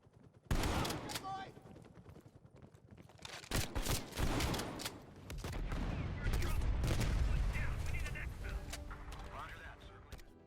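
Call of Duty Black Ops Cold War gunfire: bursts of sharp shots and rapid automatic fire with heavy impacts, loud and chaotic alongside other game sounds and voices.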